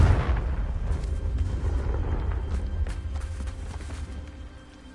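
A Confringo spell blast in Hogwarts Legacy erupts as a dense, booming rumble that rolls on for several seconds and slowly fades, with no talk over it.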